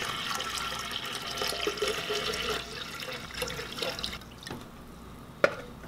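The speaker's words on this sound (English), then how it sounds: "Then, you add your tap water." Tap water runs and splashes into a container with a steady, gurgling pour that thins out toward the end, followed by a single sharp knock; no one speaks.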